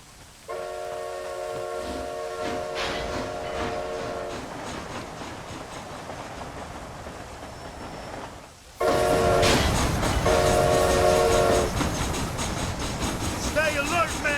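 Steam train rolling along in the Red Dead Redemption: Undead Nightmare game, a continuous rumbling rail noise with repeated horn-like tonal blasts; the sound swells louder partway through, and voices speak over it.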